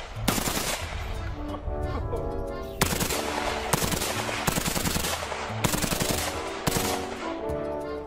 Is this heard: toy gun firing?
yes